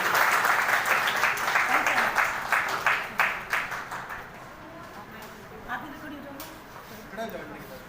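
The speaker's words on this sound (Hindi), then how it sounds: "हाँ हाँ, एक बार जोरदार तालियां दी।" An audience at a school event breaks into loud applause, a dense burst of many clapping hands that gradually fades to scattered claps with voices murmuring underneath.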